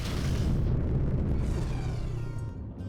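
Missile explosion in the space combat game Rebel Galaxy Outlaw, a loud, sustained rumbling blast that fills the clip and fades slightly toward the end.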